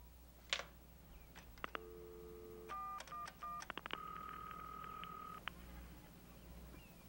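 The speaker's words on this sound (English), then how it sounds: "All I have to do is pick up the phone and call immigration" A telephone is dialed, a quick sequence of steady touch-tone beeps of varying length and pitch, heard faintly over a low background hum with a few clicks.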